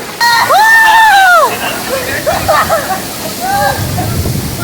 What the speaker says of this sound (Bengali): আমরা আছি একদম ঝর্নার সামনে বন্ধুরা ফাইনালি আমরা চলে এসেছি এই বড় ঝর্নাতে